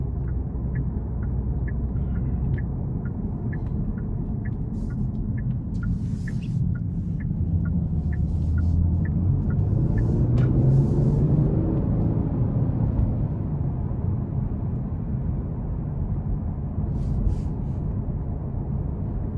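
Inside a 2022 Genesis G70 3.3T Sport Advanced with its twin-turbo V6 on the move, a steady low road rumble and engine drone fill the cabin, swelling slightly midway, with a soft repeating ticking early on and no talking.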